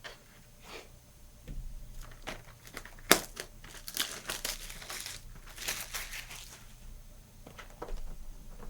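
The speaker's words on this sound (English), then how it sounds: "just cut along the perforated edge there" A Zendikar Rising draft box's cardboard packaging is cut open along its perforated edge, with close crinkling, tearing and scraping sounds in irregular bursts plus one sharp snap.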